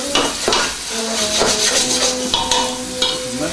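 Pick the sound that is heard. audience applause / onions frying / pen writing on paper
onions frying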